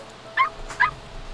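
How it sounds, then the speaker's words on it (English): Two short, high yips from a puppy, spaced about half a second apart over a quiet indoor background, with no talking. "Puppies are perfect as long as they're not heard throughout the night. Yipping and barking."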